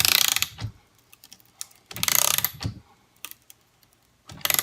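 A 16V cordless long neck ratchet drives a fastener in repeated bursts of buzzing, clicking mechanism, about four runs separated by short pauses with faint clicks between, close and loud.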